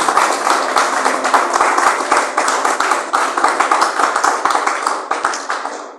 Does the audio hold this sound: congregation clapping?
yes